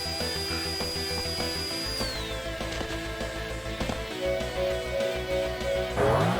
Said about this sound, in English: that was a very annoying drill sound effect